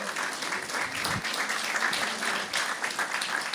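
A church congregation applauds during a service, a dense, steady wash of many hands clapping that fills the room, fairly loud and sustained throughout.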